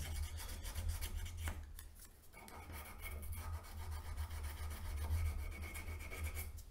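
Steady abrasive rubbing of 800 grit sandpaper across a metal can opener, a continuous close scratching texture with slight swells in intensity and no talking.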